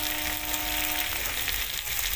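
Fish curry with potato greens sautéing in a pan gives a steady, close sizzle and crackle of frying oil for the whole short stretch, with no voices.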